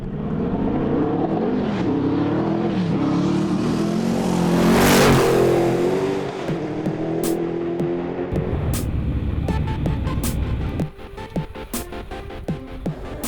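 A powerful race car driven by Paul Dallenbach at the 2011 Pikes Peak hill climb revs hard and sweeps past loudly with rising and falling engine pitch, followed by rougher mechanical rasping and sharp crackling pops.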